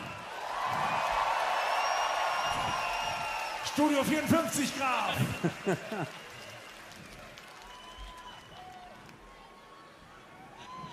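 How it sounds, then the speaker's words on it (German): Festival crowd at a rock concert cheering and clapping, a broad steady roar for several seconds with shouts and whoops rising over it, while someone speaks through the middle and the applause fades toward the end. "Applaus für den Glitzergraf!"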